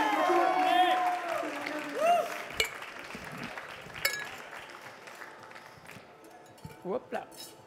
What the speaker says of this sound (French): la petite touche finale, on peut l'applaudir, on l'encourage, José.